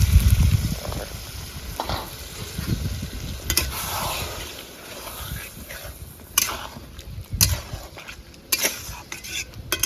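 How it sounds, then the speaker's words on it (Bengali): Chicken being sautéed with masala in gravy in a pan, with steady sizzling and frying plus repeated stirring and clinks of a utensil against cookware, close and fairly loud, with no talking. "5-10 মিনিট আমি কষে নিয়েছি ভালো করে গ্রেভির সঙ্গে চিকেনটা"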